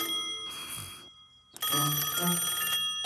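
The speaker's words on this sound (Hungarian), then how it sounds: "Ébredj, szundi madár! Ébresztő! A telefon!" A cartoon telephone rings in two bright, jangling bursts separated by a short pause, loud and close with no talk over it.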